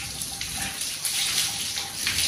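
Water splashes and pours over a toy during a child's bath at home, a steady, close gush with small irregular splashes and no voices.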